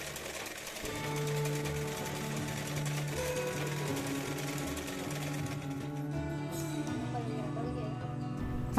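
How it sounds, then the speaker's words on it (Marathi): A sewing machine topstitches the neckline of a maxi gown, running with a continuous steady hum and rapid needle clatter for several seconds and then slowing near the end. "इथे बघा मी मिडलला याला जोड देऊन त्याच्यावर दाबटीप मारून घेते"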